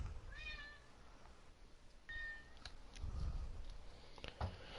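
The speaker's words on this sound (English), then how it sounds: "don't fucking meow at me ever again" A house cat meows repeatedly indoors, two or three clear rising meows spaced a couple of seconds apart over low room noise and faint clicks.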